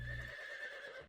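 A horse in the village-building game Settlement Survival gives one short whinny, clear and close, with no talk over it.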